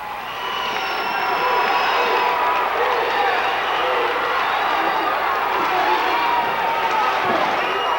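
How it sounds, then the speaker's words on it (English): A large indoor crowd at a high school basketball playoff game roars and cheers continuously, loud and sustained, with shouting voices blending into a dense wash of noise. "Listen to the crowd."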